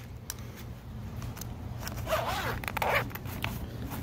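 A zipper pulled open on the front pouch of a portable solar panel carry case, a steady close rasp with two brighter bursts partway through, heard alone.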